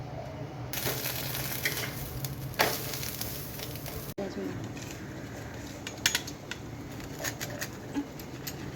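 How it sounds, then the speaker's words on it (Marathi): Folded flatbread sandwich toasting on a hot griddle until crisp gives a moderate, steady sizzle, broken by a few sharp clicks and taps of a spatula or pan. "फोल्ड झाला की गरम तव्यावर गरम गरम शेकवून घ्यायचं. थोडासा क्रिस्प होईपर्यंत शेकवायचं."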